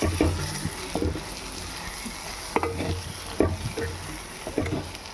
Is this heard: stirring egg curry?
yes